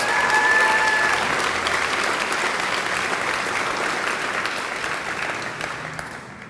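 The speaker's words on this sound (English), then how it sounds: "I give her a huge round of applause." A large audience applauds after an introduction at a county State of the County address, a full, even roar of clapping that holds steady and tapers off at the close.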